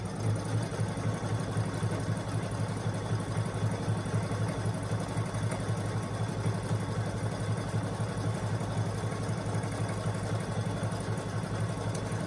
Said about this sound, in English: I'm going to continue stitching